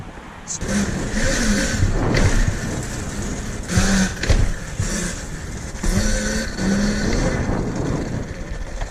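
An electric pit bike rides wheelies, its motor surging in repeated rising whines of a few seconds each, close and loud, with someone talking over parts of it.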